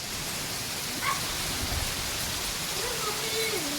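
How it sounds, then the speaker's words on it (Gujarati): Steady heavy rain hisses continuously at a bus stand, with gusty strong wind adding a low roar underneath and a faint voice now and then. "આપણે તો એટલો પવન છે ને પણ એટલોય વરસાદ"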